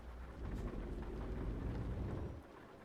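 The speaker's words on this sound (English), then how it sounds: "the rain is still continuing unabated" Rain falls steadily on a truck during a foggy drive in Euro Truck Simulator 2, a continuous soft hiss over a low rumble that eases off just before the end.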